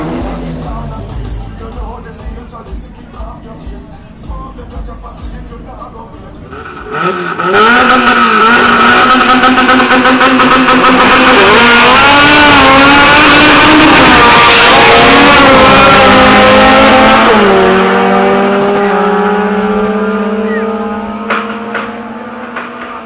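A drag racing car launches and accelerates hard down the strip, its loud engine climbing through several rising gear pulls before fading away, with quieter idling and crowd noise around it before and after.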